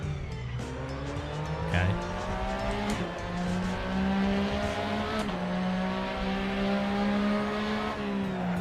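A race car in a racing simulator video game brakes hard with a sustained tire squeal over a loud engine drone, lasting throughout, with a brief spoken word near the start.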